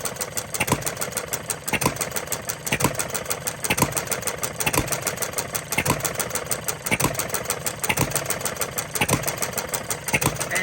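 Cole's engine idles lean, starved of fuel, with a steady rhythmic chugging beat close to the microphone and no talk.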